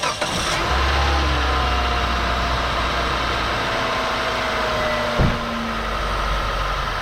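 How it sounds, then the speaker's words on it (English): A 2003 Mitsubishi Lancer engine cranks briefly and catches after a drive belt replacement, then settles into a steady, fairly loud idle, with a short sharp bump partway through. "Now I'm gonna crank back up the car, and we're gonna see how the belt was running"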